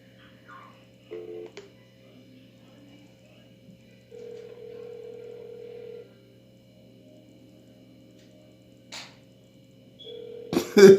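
A telephone call being placed: brief dial tones and beeps, then a long steady ringback tone and a further ring over near silence, ending in a sharp burst of handling noise.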